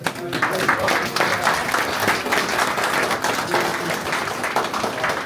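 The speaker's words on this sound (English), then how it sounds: "Can I give a round of applause to our team here?" A small group on a real estate development bus tour in Detroit claps for their team, a brisk burst of applause with audible individual claps, while a voice talks faintly beneath it.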